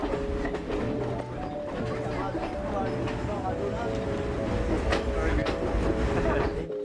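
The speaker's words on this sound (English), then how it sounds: "The train ride to Ella was amazing." A passenger train rolls toward Ella, Sri Lanka, with a steady rumble and rattling carriage noise throughout, while voices murmur faintly in the background.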